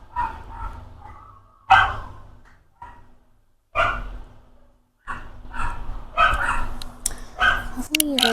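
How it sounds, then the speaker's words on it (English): Dogs in a residential neighbourhood bark and yip in scattered bursts, some loud and close, while someone speaks over and between the barks. "With the dogs around where I live barking."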